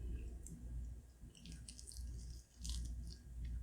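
Close, quiet chewing of vegetarian dim sum in a restaurant, soft wet squishing and biting sounds running steadily with a short pause partway through.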